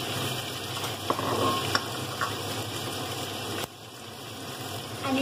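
Roasted pork is stir-fried in a hot pan. A steady, loud sizzle runs throughout, with a few faint clicks and scrapes from stirring, and the sizzle dips a little near the end.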